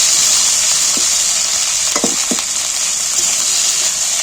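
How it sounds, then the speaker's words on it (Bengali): Ginger and garlic frying in oil make a bright, steady sizzle, joined near the middle by a few sharp spatula clinks and scrapes against the pan; no voices. "আমি আদা রসুনটা ভালো করে তেলের মধ্যে ভেজে নিচ্ছি"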